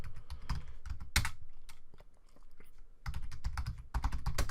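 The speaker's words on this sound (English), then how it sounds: "if you just start typing in your locations in here" Rapid typing on a computer keyboard, close and crisp, in quick bursts of clicking keys with a short slower pause in the middle.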